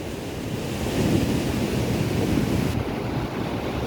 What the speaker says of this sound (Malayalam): തൂവൽ വാട്ടർഫാൾസ്.